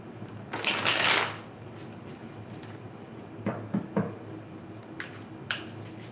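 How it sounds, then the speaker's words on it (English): A large tarot deck is shuffled by hand, with a loud riffling burst early on followed by quieter, scattered card snaps and shuffles. "it just takes me a little bit to shuffle this particular deck"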